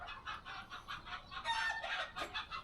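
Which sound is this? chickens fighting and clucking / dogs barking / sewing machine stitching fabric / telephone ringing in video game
chickens fighting and clucking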